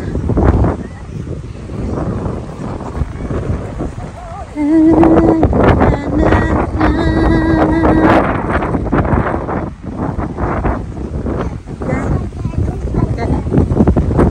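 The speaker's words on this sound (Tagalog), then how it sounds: "Hangin na yata." Strong wind buffets the microphone in loud, gusty roars, while a person talks intermittently beneath it and a brief whistling tone rises through the noise.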